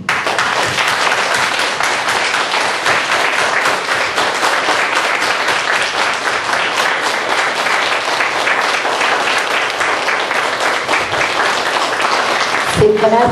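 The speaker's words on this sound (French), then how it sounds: "On applaudit." Steady, dense audience applause fills a laughter yoga session, a roomful of hands clapping continuously at even loudness for the whole stretch, with a brief voice surfacing near the end.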